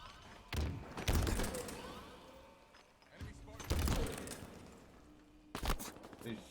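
Grenade blasts in a Halo multiplayer match, several heavy booming explosions spaced a few seconds apart, each followed by rumbling debris, with players talking over the action.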